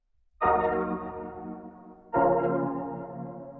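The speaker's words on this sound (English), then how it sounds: "Both sounds stacked together should sound something like this." Two stacked synthesizer pads, one an octave-shifted copy of the other, play two successive sustained chords of a sad, ambient progression, each struck cleanly and slowly fading.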